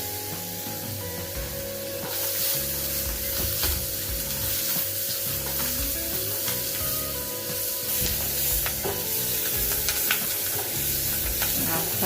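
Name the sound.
onion frying in melted butter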